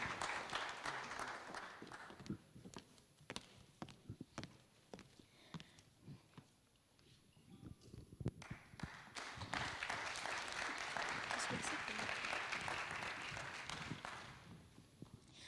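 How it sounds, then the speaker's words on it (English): Applause from a conference audience after an Indonesian traditional dance performance at a university, with scattered claps that swell into sustained, fairly quiet clapping heard from a distance. "Let's give a round of applause for the outstanding performance by Listra."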